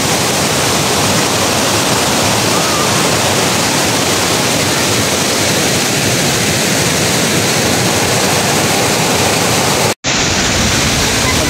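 Tinuy-an Falls in Bislig, Surigao del Sur roars as a loud, steady broadband wash of falling water, continuous and close, with a brief dropout near the end.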